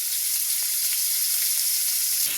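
Small chopped prawns hit hot oil in a wok and sizzle loudly, a dense, steady frying hiss heard close up with no talk.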